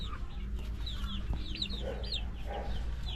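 Young white laying hens cluck and chirp in a close, busy chorus of short overlapping calls over a steady low background hum, with no talk.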